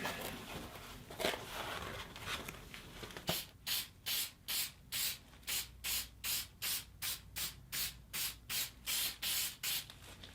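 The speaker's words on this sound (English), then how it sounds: "Now I'm going to put my spray glue onto here." Spray glue hisses onto a pool table bed during a cloth replacement, with scattered handling and rubbing noises giving way to a steady series of about fifteen short, evenly spaced bursts at close range.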